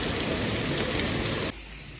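Steady rain pours outside at dusk around 4:30 with a police car parked nearby, a dense continuous hiss that cuts off abruptly midway to a quieter, duller patter, as if a door closed.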